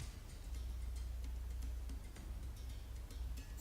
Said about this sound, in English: you can probably hear my PC in the background